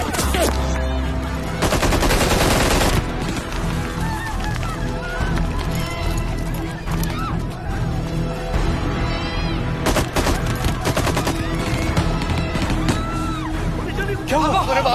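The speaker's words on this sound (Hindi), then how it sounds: "अरे बाहर गोलियों चली रही है।" Rapid bursts of gunfire crackle continuously amid loud commotion and shouting voices, dense and chaotic throughout.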